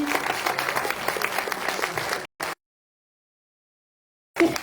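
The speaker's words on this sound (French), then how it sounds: "On les applaudit," A closing-ceremony audience applauds loudly and steadily for about two seconds. A short burst follows, then silence, then the clapping resumes briefly.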